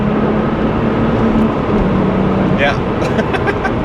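Porsche 996 Turbo engine droning steadily on a Black Forest road drive, a loud constant cabin rumble with faint tonal whine and light rattles, a brief voice heard over it.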